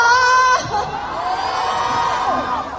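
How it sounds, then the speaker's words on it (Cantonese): Crowd of fans at a film roadshow promotion in a Kuala Lumpur mall cheers and whoops loudly, a sustained roar of high excited voices after a brief spoken prompt. "最激情嘅歡呼聲，好唔好？"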